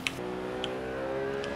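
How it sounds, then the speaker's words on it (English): A fast car driven in the video game Watch Dogs Legion on a PC, giving a steady engine drone with faint ticking, alone and at even loudness throughout. "This car is a little bit too fast to even control."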